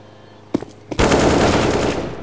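Rapid automatic gunfire in a video game: a couple of sharp shots, then a dense, loud, sustained burst of rattling fire up close.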